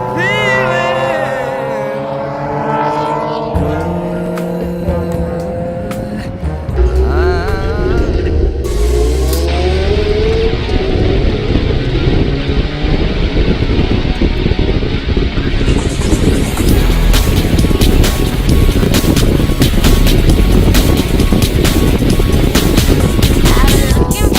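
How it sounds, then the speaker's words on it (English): Mazda race cars stream past on the Silverstone circuit, engines roaring loud and close in a dense continuous wash that builds after the opening seconds, with music playing early on. "These Mazdas absolutely streaming through."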